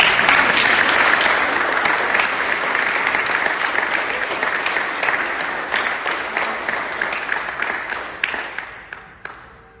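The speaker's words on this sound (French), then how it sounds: "Applaudissez-le une bonne fois." A church congregation at an Easter Sunday Protestant service claps in a loud, dense burst that gradually thins into scattered individual claps and fades toward the end.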